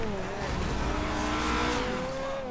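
A car in GTA 5 Online revs hard and accelerates, its engine pitch climbing steadily under game background noise, loud and continuous throughout.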